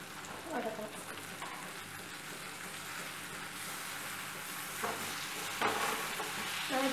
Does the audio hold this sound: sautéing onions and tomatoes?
yes